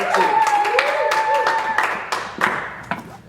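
Group applause with hand clapping to congratulate karate students on earning a stripe at home, a steady patter of claps mixed with speech and tonal sounds, moderately loud throughout.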